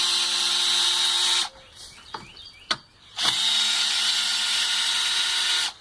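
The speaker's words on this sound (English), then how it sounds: "you actually have to use a drill or a screwdriver" A power drill whines steadily while removing screws, stops briefly with a few clicks and clunks, then whirs again at full speed before cutting off.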